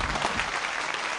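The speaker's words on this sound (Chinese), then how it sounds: "那咱掌声有请一号的姐姐来到我们现场" A studio audience at a Beijing TV dating show breaks into steady applause, dense and fairly loud, filling the short moment without any voices on top.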